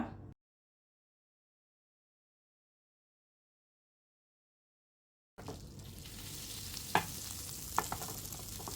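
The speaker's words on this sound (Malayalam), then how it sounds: "ഇതിലേക്ക് ഞാൻ ഇനി കുറച്ച് ബട്ടറാണ് ഇട്ട് കൊടുക്കുന്നത്." Butter heating in a pan for pineapple fry gives a soft, steady sizzle with a few faint pops after a long stretch of silence.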